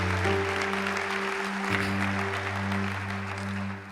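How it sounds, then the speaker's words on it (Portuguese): Congregation applause at a church service, a broad sustained wash of clapping lasting throughout, heard under steady sustained organ or keyboard chords that shift partway through. "Você pode dar um aplauso aí ao Senhor?"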